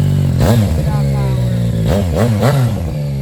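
A Yamaha FZ-09 motorcycle with a full Hindle exhaust system revs hard several times, with sharp throaty blips rising and falling over a loud, rumbling idle, close by.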